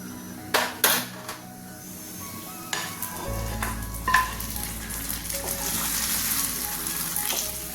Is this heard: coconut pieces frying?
yes